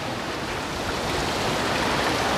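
Water from Panalaban Falls in Majayjay, Laguna, rushing along a stream bed, a loud, close, steady wash of flowing water with no voices.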